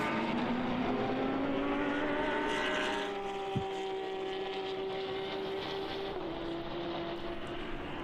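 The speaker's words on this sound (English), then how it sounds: "Saw the first placed car again in the turn 1 overtaking the slower cars" Race cars in an endurance race at the Red Bull Ring, a Porsche 992 Cup among them, drone past with steady engine tones that sweep and shift pitch, one loud close pass giving way to a fainter continuous roar.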